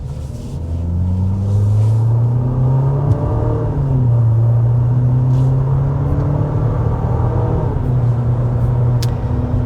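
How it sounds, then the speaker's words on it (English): Nissan Murano VC Turbo engine accelerating, a steady loud rumble with a rising, slightly coarse engine note that climbs, dips and climbs again, heard from inside the cabin with no talking. "the VC Turbo has a little bit of an unrefined sound to it"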